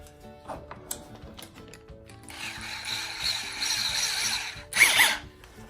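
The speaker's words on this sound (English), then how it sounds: "Get my drill." A handheld electric drill runs in a woodworking setting, with clicking ratchet-like mechanical sounds first, then a sustained whirring run for a couple of seconds and a brief louder burst near the end, with no talking.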